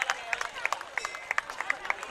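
An audience at a temple festival applauds a donor couple with scattered, uneven claps. The claps are moderately close over a murmur of crowd voices.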